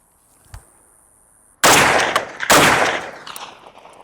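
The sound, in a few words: FAL rifle firing two rounds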